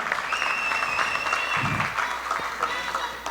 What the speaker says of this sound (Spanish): le invito a un fuerte aplauso para compañero Leonidas Issa